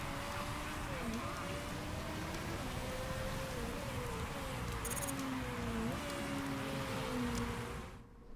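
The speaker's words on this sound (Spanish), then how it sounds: "Va a parar de llover en la vuelta número 11" Heavy rain falls steadily during a wet race in the Motorsport Manager racing game, a constant hiss layered with smooth, wavering engine tones from passing cars that fade out at the very end.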